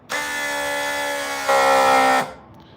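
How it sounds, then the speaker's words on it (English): Electric air compressor on a custom Harley-Davidson performance bobber hardtail pumping up its air ride suspension, a loud, steady whining buzz close by for about two seconds, stepping up in pitch and volume midway before cutting off. "It collapses all the way down, and then you can air it up by hitting the compressor here"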